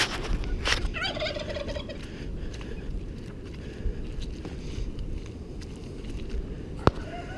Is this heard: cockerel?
yes